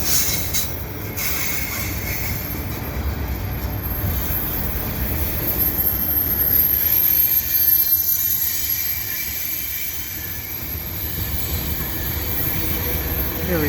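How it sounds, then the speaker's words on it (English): A westbound CN mixed freight train hauling tank cars rolls past at Dorval in winter: a loud, steady rumble of wheels and cars with intermittent wheel squeal, close by and continuous, with no talking. "It looks like a tank train."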